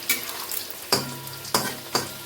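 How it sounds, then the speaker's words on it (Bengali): Pakoras frying in hot oil in a home kitchen, a steady sizzle with a few sharp bursts as pieces drop in or get stirred, close and moderately loud with no talking. "চলো পকোড়াটা ভাজা শুরু করি তো এই যে পকোড়াগুলোকে ভেজে নিই ভালো করে"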